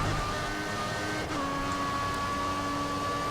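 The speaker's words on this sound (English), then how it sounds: "Turbo sounds very noticeable there when I got off the throttle." A Formula 1 car engine in the game F1 2014 drones steadily with a whining pitch that drops partway through as revs fall off the throttle, with a faint turbo whistle over the hum.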